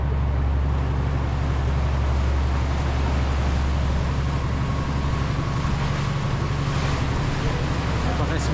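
Fishing boat cruising at seven knots, its engine droning steadily beneath a constant wash of wind and water rushing past, loud and close throughout with no break.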